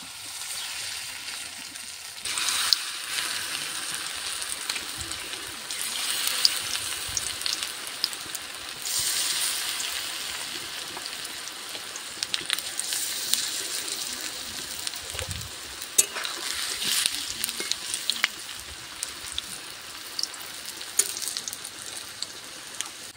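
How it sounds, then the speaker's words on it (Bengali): Small Maggi noodle fritters frying in hot oil in a kadai make a steady, dense sizzle and spatter like rain, close and continuous, swelling now and then as batter goes in, with no talking. "এবার বড়া আকারে যেরকম তালের বড়া করে যেরকম করে সেরকম ছোটো ছোটো করে দিয়ে আর ভেজে নেবো"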